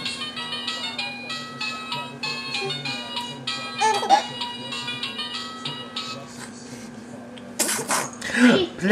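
A small child sneezes early in the morning during Hurricane Irene, short sharp sneezes heard over steady bell-like electronic toy music, with a louder burst near the end as adults speak.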